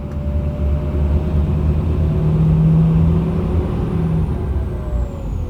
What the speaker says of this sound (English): That's the new sound of the turbo.